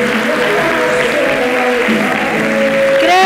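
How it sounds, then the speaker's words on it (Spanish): A church congregation applauds during a pastor's sermon, loud and sustained clapping throughout with music or voices carrying under the crowd. "Dale un buen aplauso a Dios."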